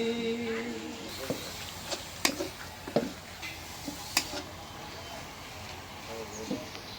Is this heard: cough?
no